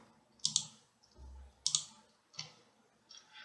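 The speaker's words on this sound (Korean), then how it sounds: "3번에 대해서 한번 클릭합니다." A computer mouse clicks a few times, each a crisp close double tick with short pauses between.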